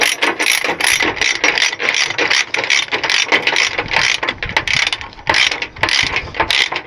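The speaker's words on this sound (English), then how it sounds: "I should turn this binder around. I don't like to push to tighten." Ratchet load binder on a chain securing fuel tanks being undone: rapid, loud, close metallic clicking in repeated bursts, steady throughout.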